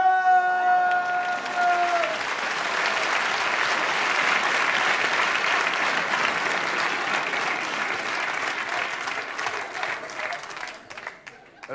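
Audience applause during a live French stand-up comedy show from 1995, a sustained wash of clapping from a large crowd that starts over a fading musical tone and holds steady for about ten seconds before thinning out.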